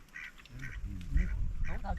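Ducks at a marsh pond give several short, nasal quacks in quick bursts, fairly close. People talk beneath and between the calls.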